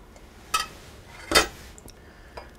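Heated marinara sauce goes into a small dipping bowl beside a calzone on a plate, heard as two short clinks of tableware, the second louder, then a faint tap near the end.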